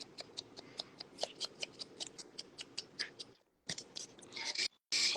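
Scissors snip in quick repeated strokes, trimming the edges of paper for a craft project, each cut crisp and close. After a brief pause the cutting resumes, ending in a few louder rustling snips.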